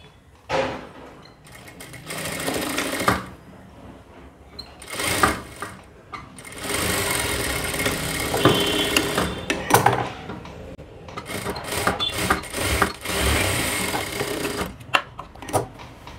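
A sewing machine stitches a strip onto a blouse, running in bursts of steady mechanical whirring with short pauses and small clicks of handling between runs, close and fairly loud.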